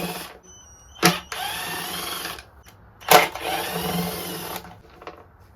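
A cordless impact driver fitted with a long 1/4-inch screwdriver bit removes the cage from a seized Echo PB-251 gas handheld leaf blower. The driver sounds close and loud in two sharp bursts, each followed by a longer stretch of whirring and rattling.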